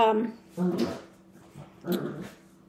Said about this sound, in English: So the puppies are wrestling over there.